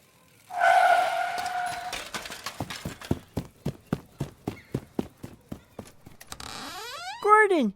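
A car skids with a long tire squeal, then a run of evenly spaced hoof-like clip-clop knocks follows, ending in a sweeping warbling effect; a loud, close cartoon-style sound effect with no voices over it.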